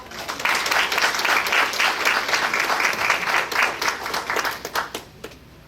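An audience at a Seguin ISD school board meeting gives students a round of applause, steady dense clapping that fills the room for about five seconds before thinning out and fading.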